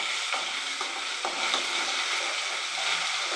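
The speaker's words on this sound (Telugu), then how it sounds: "దీంట్లో అల్లం పేస్ట్ వేస్తాను. బాగా ఫ్రై చేసుకోవాలి ఆయిల్ని," Ginger paste frying in hot oil makes a steady, hissing sizzle with a few soft stirring scrapes mixed in, close and even throughout.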